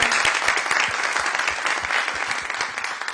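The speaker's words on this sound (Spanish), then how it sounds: "Les pido un aplauso." Applause from an audience for a panel at an education conference, dense and continuous clapping that stays fairly loud and even throughout, with no voices over it.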